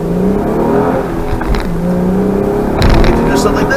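A 2010s Acura TL with a manual transmission revs and accelerates hard, its engine note climbing in pitch, dropping briefly as it shifts and pulling up again, loud and close with a short burst near the end.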